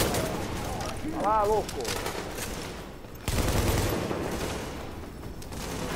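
Gunfire rattles in a firefight in the video game The Division, dense bursts of shots running throughout, while someone shouts over the shooting.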